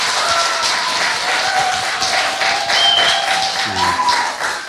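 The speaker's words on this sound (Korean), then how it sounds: "박수 한번." An audience claps during a talk-show taping, a fairly loud, continuous patter of hands with some tonal background sound running under it.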